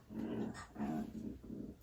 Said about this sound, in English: That's my dog chewing on his feet.